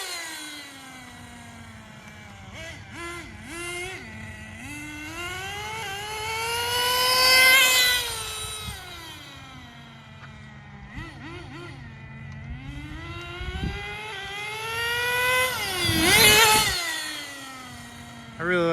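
A HotBodies Tornado RC nitro car's engine runs during a test run, revving up and down in whining harmonic sweeps, rising to two louder peaks and falling back between them.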